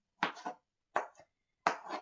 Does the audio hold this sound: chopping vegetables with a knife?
yes